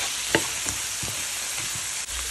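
Spices and Kashmiri red chilli powder frying in a hot pan make a constant close sizzle, broken by a few soft scraping strokes of a spoon stirring, with no talking.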